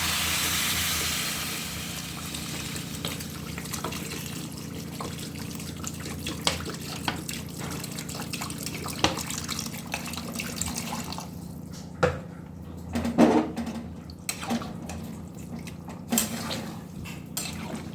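Water is poured into a pan of frying vegetable stalks and potatoes. A steady hissing rush with drips and spatters comes from close by, then thins to a quieter stretch with scattered clinks, and no one speaks.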